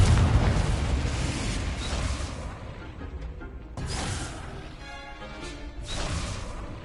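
Booming Confringo blast explosions from the Hogwarts Legacy video game, several loud bursts with rumbling decay at about 0, 4 and 6 seconds.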